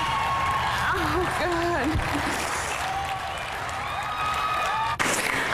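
A crowd of about 1,500 people in Texas cheers continuously in a dense, loud roar with scattered whoops, while a nearby voice speaks briefly over it.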